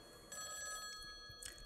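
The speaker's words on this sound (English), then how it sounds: "Oh, it's a phone." A telephone rings in the video game Rhythm Sprout with a bright, bell-like trill that starts suddenly and continues quietly for about a second.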